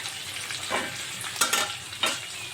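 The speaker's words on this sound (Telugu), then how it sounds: "చికెన్ ఎంతవరకు ఫ్రై అయిందో చూద్దామండి" Hotel-style chicken fry cooking in a pan: a close, dense sizzle of hot oil broken by a few louder bursts as the pieces are stirred or turned, with no voices.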